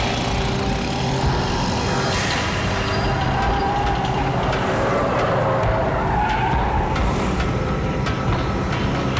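Car tyres skid loudly and steadily as a car pulls up in a Hindi-dubbed South Indian action movie scene, with continuous engine roar and screeching throughout, no speech.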